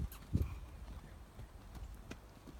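A horse's hooves step slowly and carefully through mud outdoors, giving a few soft, irregular clops and squelches at close range.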